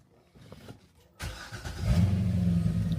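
After a few quiet clicks, a car engine cranks and fires up loudly, then settles into a deep, rumbling idle with a rev.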